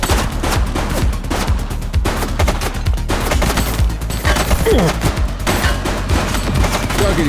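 Gunfire in the police video game The Precinct, loud rapid volleys of shots that crackle almost without a break over a dense action soundscape, no talk.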